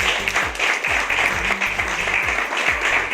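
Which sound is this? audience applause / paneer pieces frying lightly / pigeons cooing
audience applause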